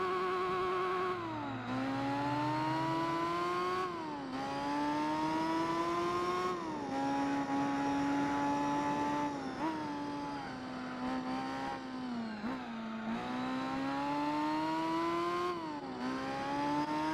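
A race car engine in Gran Turismo 4 screams loudly and continuously, its pitch climbing and then dropping sharply at several gear changes a few seconds apart, with no talking.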